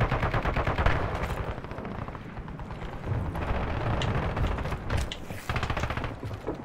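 Sustained bursts of automatic gunfire from two squads fighting in Call of Duty Warzone, dense rattling volleys mixed with single shots and distant booms, continuous and fairly loud throughout with no talking.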